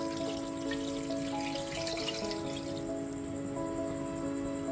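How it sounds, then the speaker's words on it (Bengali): Hot water is poured from a big bowl into mutton curry with potatoes, a continuous close splashing gush that tapers off toward the end. "তারপর বড় 1 বাটি গরম জল দিয়ে দিলাম"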